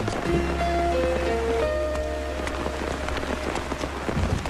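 Steady rain pattering on a surface, dense and continuous, with a faint low hum and a few tonal notes beneath it.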